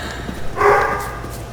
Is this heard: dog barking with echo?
yes